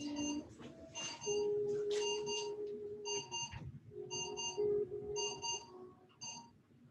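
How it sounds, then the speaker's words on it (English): An alarm rings out in a quiet room, repeating bright electronic beeps in short clustered bursts over a steady tone, fairly close and with no talking. "there was an alarm going off in my room"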